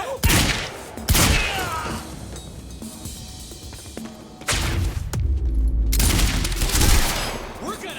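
Gunfire in a video game: loud bursts of rapid shots and heavy impacts in quick clusters, with brief quieter gaps between them.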